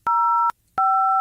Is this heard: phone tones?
yes